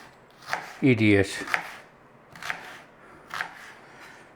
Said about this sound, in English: Now we got a knife. We want some fine diced onion.